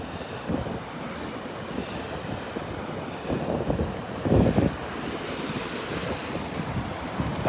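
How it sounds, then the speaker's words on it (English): Surf washes up on a Gulf beach at Delnor-Wiggins, spreading shells along the sand: a steady wash with one louder surge near the middle, wind noise mixed in, no voices. "The waves come up here and spread the shells out for us."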